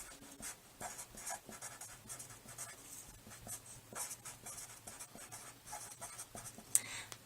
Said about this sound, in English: So I'm going to put a question mark in the margin and write,